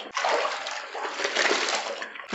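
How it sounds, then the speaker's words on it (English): A white towel is dipped and rinsed by hand in a basin of water, giving a steady close splashing and sloshing that runs continuously for a couple of seconds with no talk. "Dip it in and rinse it out like that."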